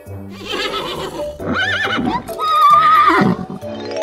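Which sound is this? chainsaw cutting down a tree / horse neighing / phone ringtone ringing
horse neighing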